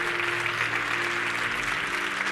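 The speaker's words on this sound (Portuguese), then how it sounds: "Os que creem, aplaudam ao Senhor." A church congregation claps throughout, a dense and even wash of many hands at a steady level from start to finish.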